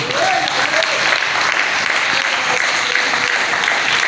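A church congregation breaks into loud, sustained applause for the Lord during a French-language service on end-times signs, a dense steady clapping that fills the whole moment.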